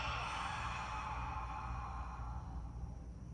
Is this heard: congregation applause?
no